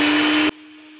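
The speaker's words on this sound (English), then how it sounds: "I have a Hamilton Beach blender." A Hamilton Beach blender on its grind setting runs loud and steady while grinding dried garlic and onion, then cuts off abruptly halfway through, leaving a faint hum.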